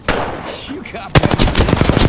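Loud automatic gunfire rattles out in Apex Legends. A rapid burst of close, sharp shots follows a brief quieter moment.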